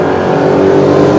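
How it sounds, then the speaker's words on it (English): A 540 cubic inch big block Chevy drag car rumbles and revs loudly and steadily at a drag strip, a dense continuous engine roar with no voices over it. "540 cubic inch big block Chevy up against that Buick Grand Sport in the right lane"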